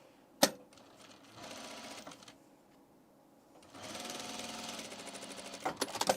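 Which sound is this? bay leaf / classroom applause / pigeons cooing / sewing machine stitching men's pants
sewing machine stitching men's pants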